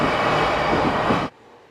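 A train passes in Tokyo, a loud close roar of rushing wheels and rail noise that cuts off sharply after about a second.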